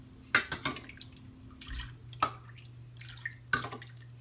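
Broth poured by the cup for seafood cornbread dressing splashes in a few short, separate bursts with drips between them, close and fairly quiet.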